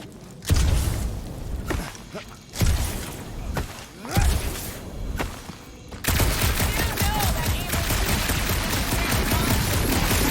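Gunfire from the Guardians of the Galaxy video game breaks out in several punchy bursts, one after another. A dense, continuous roar of shooting and impacts follows.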